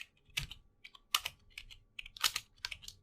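Fingers type on a computer keyboard in an irregular burst of clicky keystrokes, with a few louder presses standing out among lighter taps, close and with no talking.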